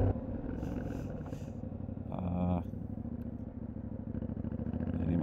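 A 2025 Yamaha Tenere motorcycle riding across open fields, its engine a steady rumbling drone with bumps and rattles, near and fairly loud, rising briefly mid-clip.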